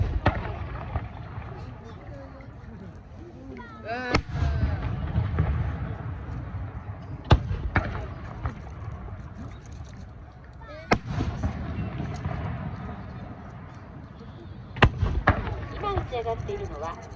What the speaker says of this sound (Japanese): 打ち上がっているのはボタンという花火です。